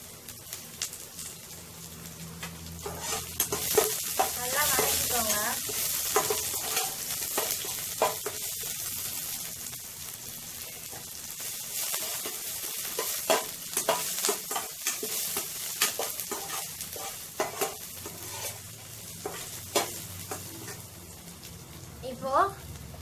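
Onion and ginger garlic paste frying in a pan for a coconut-free fish curry crackles steadily, with utensil scrapes and clinks coming and going, while a person talks over it throughout.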